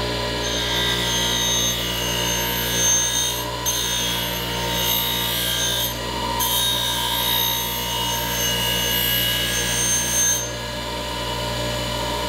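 An adze blade being sharpened gives a steady, loud abrasive grinding with a high whine and hum, broken by a couple of short dips, with no voices.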